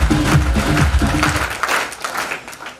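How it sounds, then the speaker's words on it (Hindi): An audience applauds, a dense burst of clapping from many hands at full volume that thins and fades over a few seconds. "इनके लिए तालियां हो सकती हैं"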